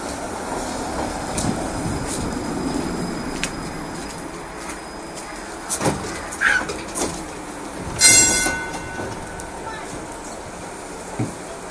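A Tatra tram on the Moscow route 25 rolls in toward a stop at Sokolnicheskaya Zastava, with a low rail rumble, scattered clanks and a sharp wheel squeal near the end, while someone talks nearby.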